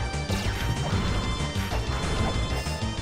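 Blocks shatter in the video game La-Mulana with loud, repeated crashing smashes and clattering debris over a busy, full game soundtrack.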